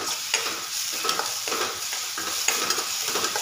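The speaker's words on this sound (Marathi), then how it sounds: "तर ह्या पद्धतीने आधी सगळं व्यवस्थित हलवून घेऊया।" Chilli thecha mixture stirred in a pan, with a utensil scraping in repeated strokes about every half second over a steady light sizzle, close and moderately loud.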